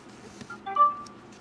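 An LG Intuition phone chimes a short notification tone after reading a car-mode tag, a single clear electronic beep rising out of quiet room sound.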